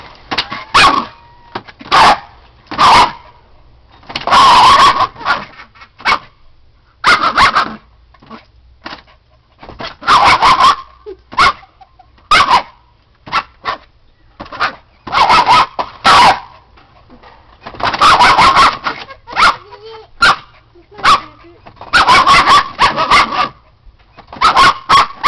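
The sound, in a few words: dog barking and attacking a wall, thinking there's a mouse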